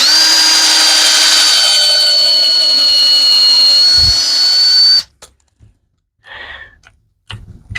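A power drill drives screws into wood with a loud, steady whirring whine for about five seconds, then cuts off into near silence broken by a short burst and faint handling clicks.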